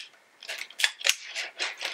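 Several crisp snips close by as electrical wire from a string of lights is cut, the clicks coming in a quick, uneven series.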